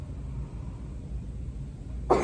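A single sharp cough at close range during a clinical cough assessment, coming at the very end after a quiet stretch of steady background hiss.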